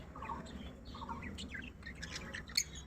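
Pet lovebirds in a cage chirp and tweet in short, high bursts, with a sharper squawk near the end, fairly quiet against a low background hum.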